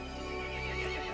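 A horse neighs in the Resident Evil Village horror video game, a single sustained, strained whinny with layered harmonics over a steady low game-ambience drone, close and fairly quiet, with no one talking.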